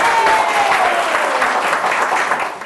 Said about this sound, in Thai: เอาเสียงปรบมือเซนโปโลเลยครับ